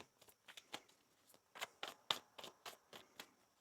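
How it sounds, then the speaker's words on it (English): Tarot cards are shuffled in a quick series of soft riffling snaps and taps, quiet and close, with no voices. "One more shuffle here."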